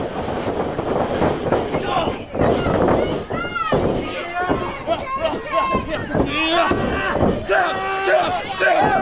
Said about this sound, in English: The sound of a crowd of people enjoying pro wrestling, hooting, hollering, yelling,